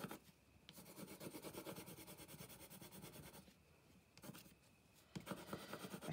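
Steady raspy scratching of a pencil moving across paper, continuous strokes with brief pauses, close and fairly quiet, no voices.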